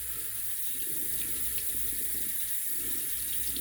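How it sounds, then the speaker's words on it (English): Tap water runs steadily into a sink to wet a 26 or 28 millimeter shaving brush, a continuous close hiss and splash with no talking. "Now I'm going to wet my brush, get a little moisture on that brush."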